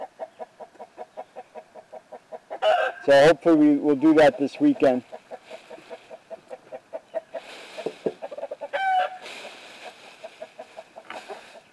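Hens cluck and a rooster calls loudly close by in a backyard flock with too many roosters, with steady clucking throughout as a person talks briefly over the flock.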